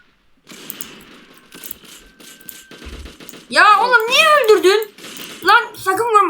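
Quick bursts of gunfire from the Arsenal video game crackle in short volleys. Loud, excited voices talk and shout over the shots, and the voices dominate the second half.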